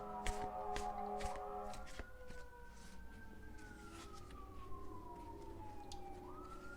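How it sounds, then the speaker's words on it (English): Emergency vehicle sirens wail continuously in the distance, a rising and falling tone that sweeps up and down across the whole stretch, with faint footsteps and background noise underneath. "Do you hear the sirens?"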